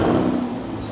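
Chevrolet Corvette engine started remotely through the MyChevrolet app, a brief, steady low rumble of the running engine, close and moderately loud, alone with no talk.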